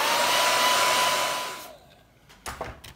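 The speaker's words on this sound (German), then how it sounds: "Ein bisschen drüber föhnen." A hair dryer blows steadily over a painting to dry it, loud and close with a constant whooshing hum, then cuts off, leaving a few faint handling knocks.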